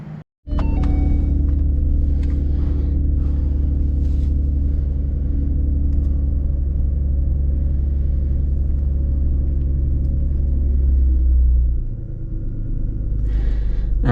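A twin-turbo Ford Mustang with new spark plugs cruises on the road, its loud, steady low engine rumble droning continuously with a slight dip in tone near the end.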